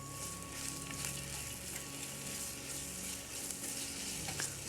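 Thinly sliced medium onion sautéing in a pan, a steady soft sizzle with light stirring scrapes running continuously at moderate level, no voices.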